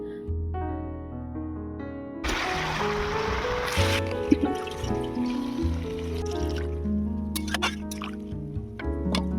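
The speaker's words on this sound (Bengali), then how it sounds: "আলু আর সিম ভালো করে কষিয়ে নিয়েছি, এবারে দিয়ে দেব পরিমাণ মতো জল।" Water pours into a pan of sautéed potatoes and flat beans for a fish curry, a loud rushing splash starting partway through and lasting about two seconds, then settling into bubbling and dripping with low kitchen hum and music-like tones beneath.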